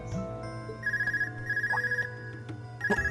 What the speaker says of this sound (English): A cell phone? It's coming from the devices we received with the Academy guidebook.